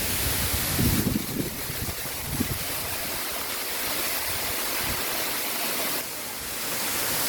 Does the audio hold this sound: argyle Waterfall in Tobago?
yes